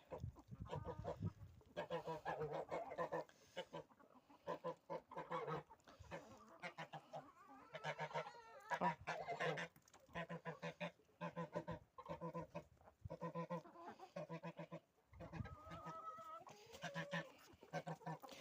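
Two geese keep up loud, repeated honking close by in a farmyard where hens have been chased off, with calls coming in irregular bursts and short gaps.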